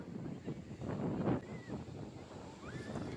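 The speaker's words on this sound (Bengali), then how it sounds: "সমুদ্রের জলে একটু পা ভেজানোর জন্য নেমে গেলাম" Sea waves and steady wind on the beach at Puri, heard as a continuous broad rush with gentle swells and no talking.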